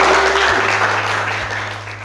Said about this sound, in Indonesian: Tepuk tangan buat kelompok 1, silakan.